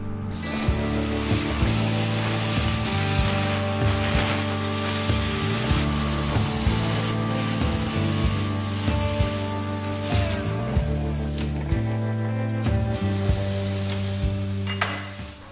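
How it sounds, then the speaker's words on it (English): Harbor Freight plasma cutter slicing through half-inch steel plate, a loud continuous hissing, crackling roar with a steady electrical buzz lasting the whole stretch, close by and without talk. "I've had really good luck with this Harbor Freight plasma cutter. It's about time to put it to the test, see if it'll pop through this 1/2 inch plate"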